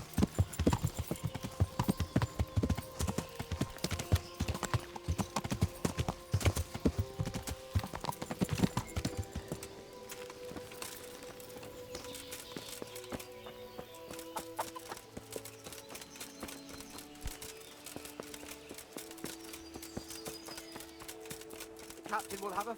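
Horses' hooves clip-clop in the video game Kingdom Come Deliverance, a loud, busy trotting rhythm at first that settles into a sparser steady pace under game music and voices.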